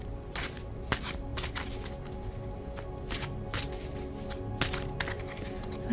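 A deck of oracle cards is shuffled close by in a run of brisk riffling bursts with short pauses between them. No one speaks.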